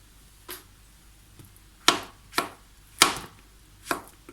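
A knife chops mushrooms on a board in a series of sharp, close knocks, about six cuts with uneven gaps and quiet pauses in between.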